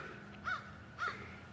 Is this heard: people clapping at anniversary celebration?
no